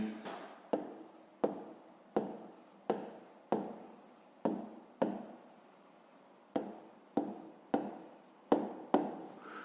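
Pen strokes of a solution being written in a notebook for a fifth-grade maths exercise, a steady series of about fourteen sharp scratchy bursts, each fading quickly, close and clear with no talking.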